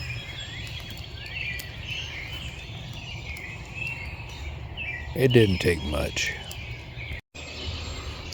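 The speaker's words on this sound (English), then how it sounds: "Waking up and listening to the birds." Morning birdsong chirps and trills in the background through the whole stretch at a campsite, with a short spoken remark partway in and some crackling movement noise.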